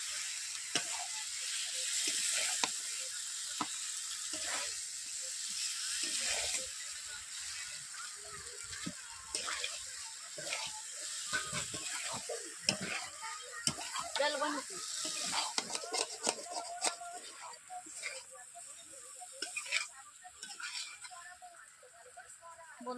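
Spatula stirring jackfruit and potatoes in a full wok, with a steady sizzle of frying broken by irregular scraping and clacking strokes, fairly close and moderate in level.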